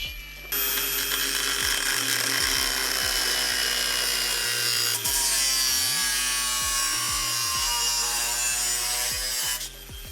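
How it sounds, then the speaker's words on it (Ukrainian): Power tool or saw cutting into metal nearby during rust-removal and welding work, a loud steady grinding whine with repeated low rhythmic pulses running continuously for about nine seconds before stopping. "хтось там ріже"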